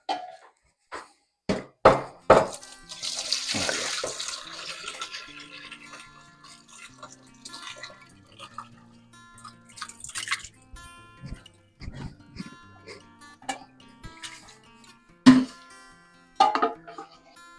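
Caerphilly cheese curds and whey poured from a pot into a cheesecloth-lined colander, a splashing rush of liquid early on followed by scattered knocks, drips and clatters of handling, with quiet gaps between.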